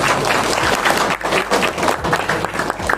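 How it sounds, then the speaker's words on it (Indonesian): Loud, dense applause from a seminar audience honoring a couple, many hands clapping together in a steady roar with slight swells. "Tepuk tangan buat pasangan dulu."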